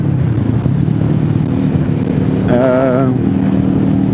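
A Kawasaki Versys 650 motorcycle being ridden through corners in Indonesian traffic gives a steady, close engine drone with wind rush, and a brief rising whine joins partway through.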